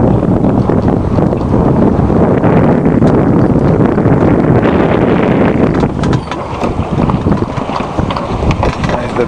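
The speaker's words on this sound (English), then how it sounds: "got a nice bit of sunshine and a good breeze today." Steady wind buffets the microphone aboard the sailing boat Cohuna off Plymouth on a breezy, sunny day, a constant loud rushing roar that dips briefly near the end, with the boat rolling about.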